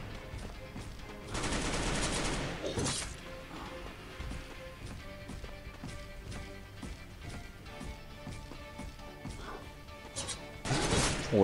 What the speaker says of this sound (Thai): จังหวะนี้ก็ยิงไปก่อน